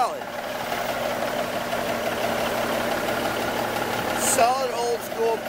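A recently overhauled, pre-emissions 1985 Peterbilt 379 truck idles with a steady, low, even engine hum nearby, and a few brief higher chirps come near the end.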